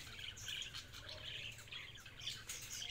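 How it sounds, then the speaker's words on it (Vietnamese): A pet parrot squawks and chirps repeatedly while eating yellow corn in its cage, bright calls recurring close by over a steady low hum. "Con vẹt nó ăn này."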